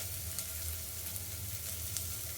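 Onion and salt sizzle steadily in a hot frying pan while a vegetable pulao is being made, a dense, even crackle that holds close and constant without a break.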